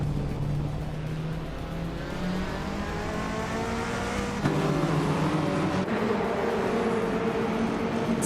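Race car engines in a racing video game whine and rise in pitch as cars run nose to tail for the lead, a steady loud drone with shifting engine tones.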